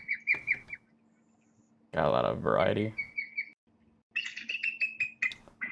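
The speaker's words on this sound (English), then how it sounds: "let's grab our bald eagle sounds" Recorded bald eagle calls, high screechy cries in short bursts, heard near and loud, alternating with a spoken line from a man.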